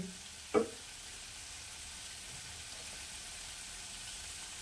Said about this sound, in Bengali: এই 1 চামচ মতো জল দিচ্ছি